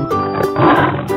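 A lion roars loudly in a cartoon animal sequence, one sustained, rough growling roar that swells in the middle and fills the short moment without talk.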